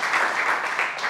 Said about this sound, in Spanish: un aplauso para Irene